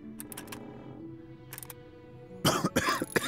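A character in the video game Goodbye Deponia coughs in a burst of loud, raspy coughs near the end, after a few faint, short clicks over low background music.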